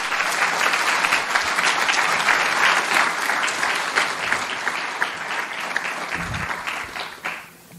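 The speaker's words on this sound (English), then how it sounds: "Give these two organizations and Steve Newhouse a round of applause," A crowd at an economic summit applauds steadily for several seconds, the clapping dense and lively before tapering off at the end.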